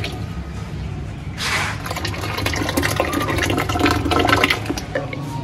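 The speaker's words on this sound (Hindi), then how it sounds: "एक किलो डालेंगे ऑयल और आधा किलो डालेंगे घी।" Half a kilo of ghee pouring into a large pot for a 10 kg Pakistani chicken karahi: a steady, fairly loud liquid pour with a gurgling rush, no voices.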